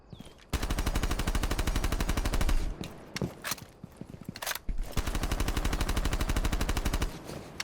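Rapid automatic fire from a 9x19 weapon in the Rainbow Six Siege video game, long sustained bursts of evenly spaced loud shots with short pauses and a few single cracks between them.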